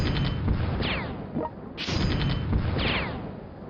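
In World Conqueror 4, rocket artillery fires a volley of rockets in rolling whooshing launches and booms, several overlapping streaks spread over a few seconds, loud and close, with no talk.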